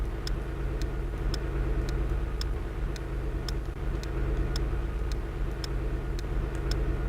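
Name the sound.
car driving in a PC driving test video game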